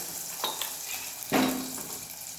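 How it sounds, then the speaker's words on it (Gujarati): A vegetable bread roll fries slowly in oil over a low flame, giving a soft, steady sizzle broken by a couple of light clinks and a short splutter. "હવે આપણે એને કરીશું ફ્રાય ધીમા તાપે."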